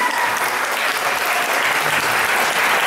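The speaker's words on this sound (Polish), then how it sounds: "Jeszcze raz gorące brawa dla Moniki." Loud, warm applause from a festival audience for a singer at the Eurosong 2012 foreign-language song festival in Malbork, with dense, continuous clapping from a large crowd filling the whole moment.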